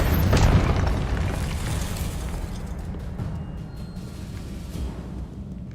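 Confringo blasting-spell explosion in Hogwarts Legacy: a loud, close boom at the start that rolls off into a long, fading rumble and debris-like crackle, with no talking.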